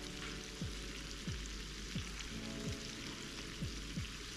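Garlic fries in melted butter in a pan, giving a steady soft sizzle with a faint hum and a regular, repeating low thump running underneath.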